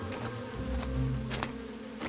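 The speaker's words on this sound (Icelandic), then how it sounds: "Hvaðan kom allar þessar flugur?" Flies buzz steadily around a picnic spot by a swamp in the Tulipop cartoon, a continuous faint drone with a few sharper passes and clicks, no voices.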